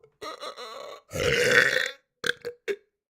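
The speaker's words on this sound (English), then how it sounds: "little baby burp for the belch enthusiasts out there" A small, soft burp rises in several separate bursts: a longer belching stretch followed by two short gulping blips, close to the mic, with no talk over it.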